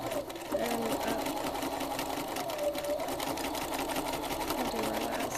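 Domestic sewing machine running continuously while free-motion stitching jigsaw-puzzle quilting, a fast, even mechanical whir and needle chatter, close and steady, with a voice briefly over it.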